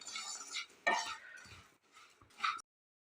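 A spoon works through roasted rice in a kadai, giving soft irregular scraping and clinking strokes, quiet and close, with short pauses between movements.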